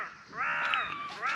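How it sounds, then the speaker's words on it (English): Crows call at a campsite with a couple of harsh, drawn-out caws at moderate distance, one overlapping the next. No other sound competes with them. "The birds wake you up at ridiculous hours, crows and seagulls."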